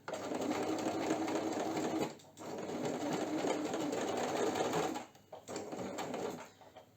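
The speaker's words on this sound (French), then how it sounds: "Hop, on va piquer, on baisse le pied presseur." A sewing machine stitches fabric while repairing a cushion cover, running in steady bursts with brief pauses between, close and fairly loud with no talking.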